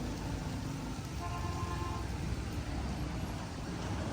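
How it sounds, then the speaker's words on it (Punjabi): Rain falling outside while people shelter on a roadside during a village trip, a dense steady hiss of rainfall mixed with low traffic rumble, with no talk. "ਬਾਹਰ ਨਾ ਬਾਰਿਸ਼ ਪੈ ਰਹੀ ਆ"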